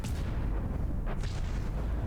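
Cram cannon shells burst during a battleship fight in the game From the Depths, with heavy booming impacts rumbling low and continuous and a couple of sharper blasts standing out briefly.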